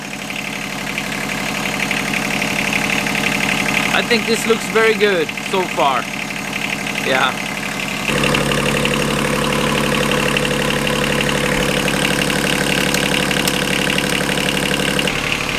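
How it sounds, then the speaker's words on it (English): A boat engine idles steadily after a head gasket change, a constant low, even drone that runs through the whole stretch while someone speaks briefly over its first half. "I always keep it running for a while before I deliver the boat to the customer"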